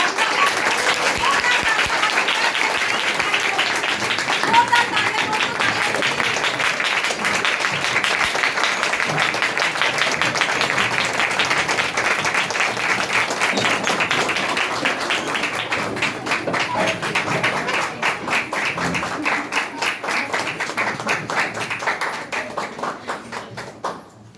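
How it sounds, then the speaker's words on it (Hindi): An audience at a stage event bursts into sustained applause welcoming speakers, dense clapping from a large crowd that holds strong for most of the stretch before thinning out near the end. "मैं आप सब लोगों की जोरदार तालियों के साथ इनवाइट करना चाहूंगी"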